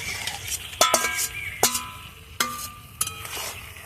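Brinjal and potato stir-fried together in a pan, with a few sharp metallic clanks of a spatula against the pan over a low frying sizzle.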